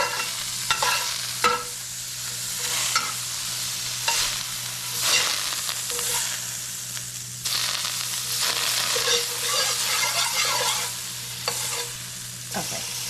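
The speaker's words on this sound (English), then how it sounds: "I'm gonna add some butter to the pan. Just saute it." Butter sizzles and fries steadily in a pan for salmon, with a spatula scraping and stirring in repeated bursts, close and fairly loud, no voices.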